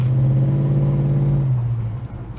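Engine of a Holden HK automatic idling and running steadily close by, loud with a low, even drone and faint ping, easing off slightly at the end.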